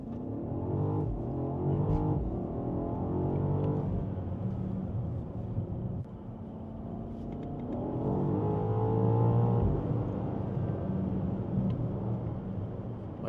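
A 748-horsepower BMW hybrid sports car driving on the road in sport mode, its engine a continuous low rumble from inside the cabin that rises and falls with acceleration, steady throughout and without speech.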